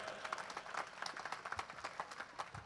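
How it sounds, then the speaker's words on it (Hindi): Audience applause at a live comedy show, a steady burst of many hands clapping that carries through the whole moment at even strength, with no voices standing out above it. "एक बार जोरदार तालियां"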